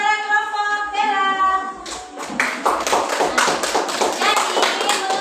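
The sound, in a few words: classroom applause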